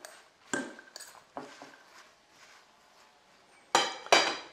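Wild salad tossed with vinegar and honey in a bowl, heard as a few sharp clinks and knocks of utensils against the dish with quiet rustling between, close and without speech.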